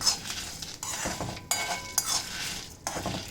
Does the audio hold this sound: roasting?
yes